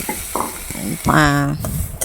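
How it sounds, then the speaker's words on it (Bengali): Dried red chillies and cumin seeds sizzling in hot ghee in a kadai, with crackling fry and sharp spoon-stirring scrapes against the pan, close and loud, no talk. "শুকনো লঙ্কা জিরে ফোড়ন দিয়ে কাউনের চালগুলো একটু ভিজিয়ে রেখেছিলাম সেগুলো দিয়ে একটু ঘিয়ে ভেজে নিলাম"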